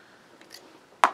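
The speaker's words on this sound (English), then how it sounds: "I'm going to cut it out by hand." Hand snips cut once through a stamped paper card piece, a single sharp close snip after faint quiet handling.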